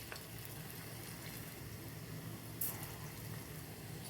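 Bottle gourd koftas fry in hot oil as a soft, even, fairly quiet sizzle, with one brief louder burst near the end.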